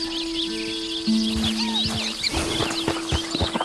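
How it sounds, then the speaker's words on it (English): Ambient farm animal sounds in the video game Red Dead Redemption 2, with chickens clucking repeatedly and a rooster-like call close by, mixed with scattered bird chirps and tonal hums. "One of the big atmospheric magic tricks they pull with this game are the ambient animal sounds."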